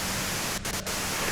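Static in the Disco Elysium video game hisses as a dense, steady wash of noise, broken by a couple of very brief dropouts.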